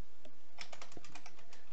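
Keys tapped on a computer keyboard at close range, a run of light, crisp clicks that speeds up midway and then trails off, with no talking.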